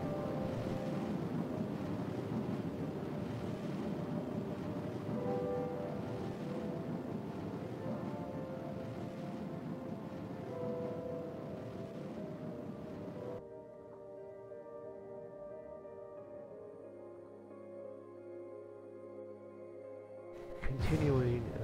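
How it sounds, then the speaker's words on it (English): Nuclear rocket engine burning steadily in a space video game during an orbital maneuver, a dense, wind-like rumble that holds constant, then gives way to a quieter tonal hum with a brief burst at the end. "So we'll just let the nuclear engine do most of this work."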